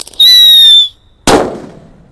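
A paper-wrapped Extra XL Galaxy firecracker goes off outdoors: a loud high whistle with harmonics rises for about half a second, then a gap and a single sharp, booming bang that decays quickly.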